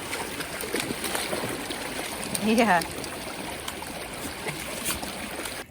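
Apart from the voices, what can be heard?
flowing water of a small creek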